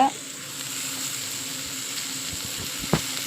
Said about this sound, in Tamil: தக்காளி போட்டு நல்லா வணக்கிக்கோங்க